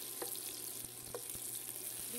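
Onion frying in a pan for a simple keto dish, a faint, even sizzle with a few soft taps of a utensil, quiet and steady throughout, no one talking.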